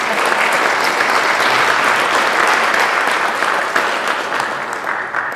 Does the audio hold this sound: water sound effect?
no